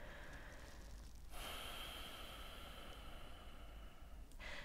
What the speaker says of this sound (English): then just taking a few big deep breaths here